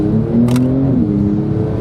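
A Porsche 911 Turbo S of the 992 generation with 650 hp accelerates hard, its engine droning loudly and steadily from inside the cabin while the pitch climbs and then shifts.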